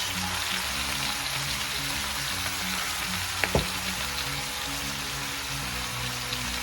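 Egg noodles for saucy pancit canton hiss and sizzle steadily in a hot stir-fry pan, a continuous frying crackle with one brief sharp clatter midway and no talking.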